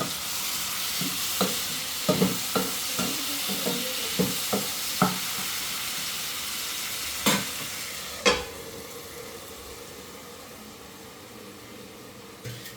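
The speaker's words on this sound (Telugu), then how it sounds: "టమాటాలు మగ్గిపోతూ ఉన్నాయి" Tomatoes sizzle steadily in a large pot while a spoon knocks and scrapes against the metal in an irregular run of taps, with a louder clank near the end, and the frying hiss continues throughout.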